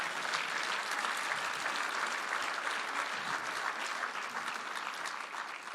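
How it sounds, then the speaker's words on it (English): Steady, dense applause from a large audience at an evening tribute gala, sustained and loud throughout with no speech over it, tapering slightly at the end. "So a round of applause to all of our great supporters from across this country."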